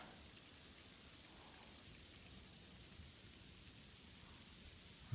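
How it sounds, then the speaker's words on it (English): Sleet, or frozen rain, patters steadily and softly through a forest on the Appalachian Trail, a faint, even hiss with no voices. "this is what it sounds like in the forest when the sleet starts, the frozen rain"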